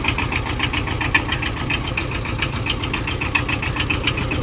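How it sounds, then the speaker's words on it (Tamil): A 2019 Tata Ace Gold mini truck engine runs at a steady idle, a close, loud, continuous diesel chug with a rapid knocking pulse and no pauses or talk. "ஸ்டார்ட் பண்ணியும் காட்டுறேன் பாருங்கள் பாருங்கள் சவுண்டெல்லாம் எப்படி இருக்குதுன்னு பாருங்கள் இன்ஜினோட ஓடுது சவுண்டோட பாருங்கள்"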